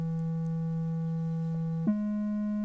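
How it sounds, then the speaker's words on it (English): A microtuned major chord with detuned octaves holds as a steady, soft electronic tone, then shifts abruptly in pitch near the end and sustains quietly, with no talking. "you can hear that the octaves from the first note to the last note, there's not an octave sounding anymore"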